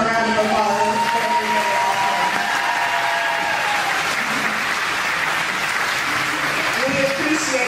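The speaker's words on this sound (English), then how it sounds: "Let's give Mystery one more round of applause." An audience applauds a motivational speaker with sustained, even clapping that holds steady throughout, while voices murmur and talk faintly beneath the crowd.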